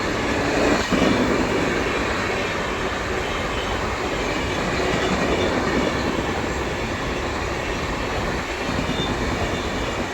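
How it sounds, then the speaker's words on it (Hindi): A Telangana Superfast express train overtakes alongside, heard as a steady, loud rumble of wheels and carriages with faint clatter and a little squeal, continuous throughout with no voices. "और बगल से ओवरटेक कर रही है तेलंगाना सुपरफास्ट।"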